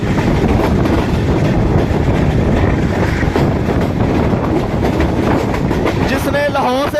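A locomotive running on rails, a loud continuous rumble with rhythmic clickety-clack and wind buffeting close to the microphone, ending with a rising whistle-like tone.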